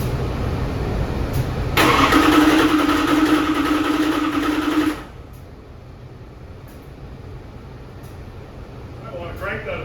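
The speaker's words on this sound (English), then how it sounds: "I want to crank that a bit and make some oil pressure." An engine mounted on a dyno is cranked for about three seconds in a loud, dense burst that cuts off abruptly, leaving a quieter background rumble.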